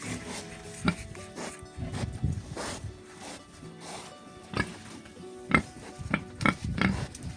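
A pig on a small village farm gives repeated close grunts and snorts at irregular intervals, mixed with rustling and scraping sounds; no one speaks over it.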